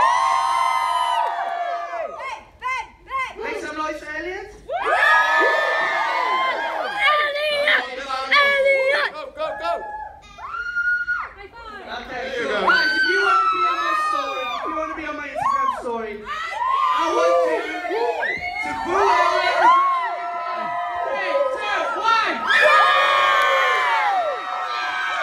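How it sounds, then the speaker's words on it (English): A lively crowd of children and fans at an author's book tour cheers, whoops and shouts in bursts, with chatter and a louder voice calling out over the din throughout. "Make some noise for Ben, quick"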